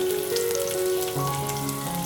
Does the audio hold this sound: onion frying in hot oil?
yes